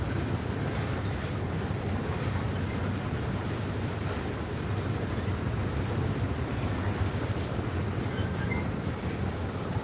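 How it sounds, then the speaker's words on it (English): CSX or Norfolk Southern switcher locomotive reversing seen from a cliff overlooking the tracks, a steady broadband rumble of engine and rolling stock, distant and continuous with wind-like wash and no talk. "our switcher closest to us is reversing action"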